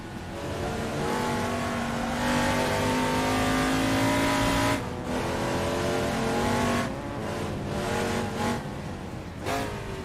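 A touring car in Assetto Corsa racing at Goodwood snarls close by, its engine note dropping and rising through downshifts, with gear changes breaking the steady drone and other cars audible around it.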